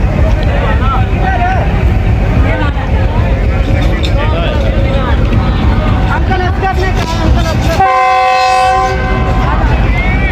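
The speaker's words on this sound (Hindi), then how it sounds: "डिपार्ट हो रही है चुंड रेलवे स्टेशन से 140 डाउन संदल एक्सप्रेस" The 140 Down Sandal Express departs Chund railway station with a loud, close rumble of rolling wagons, voices talking over it, and then a long blaring horn near the end.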